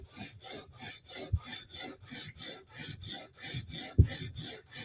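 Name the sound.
knife being sharpened, removing the burr on the heel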